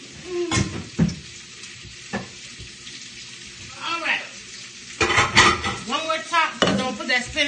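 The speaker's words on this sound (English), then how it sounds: "Toss the spinach around in that oil." Spinach sizzles in hot oil in a pan for zucchini noodles with homemade sauce, with repeated scraping and tossing strokes and clinks of a utensil against the pan, close up with brief bursts of activity.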